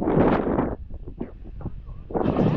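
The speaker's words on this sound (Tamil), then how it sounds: "காற்று சூப்பராக அடிக்குது." Strong wind at the Ramakkalmedu hilltop viewpoint in Idukki, Kerala, where windmills stand, roars against the microphone in heavy gusts, easing briefly in the middle before surging back.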